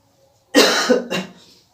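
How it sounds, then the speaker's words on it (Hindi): A single harsh cough, loud and close, followed by a shorter second cough, with silence before and after. "खांसी बहुत अधिक हो रहा है"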